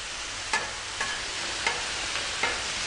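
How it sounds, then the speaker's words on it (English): Steady sizzling of potatoes and bacon frying on a hot Camp Chef flat-top griddle, with a few soft scraping stirs at regular intervals. "Now we just want to get a nice sizzle on the potatoes"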